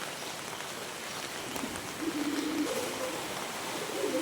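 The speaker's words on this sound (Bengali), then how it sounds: "আজকে সকাল 10টা থেকে আমাদের এদিকে অনেক বৃষ্টি হচ্ছে।" Heavy rain falls in a steady, soft hiss, heard from a distance at low volume and swelling a little midway, with no voices.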